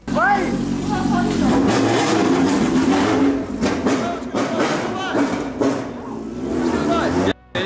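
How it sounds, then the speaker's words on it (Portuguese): A Honda CB1000 motorcycle engine revs at a racetrack, loud rising and falling engine roars close by, with people talking and shouting over it. "Ele vai dar uma volta no autódromo com sua moto."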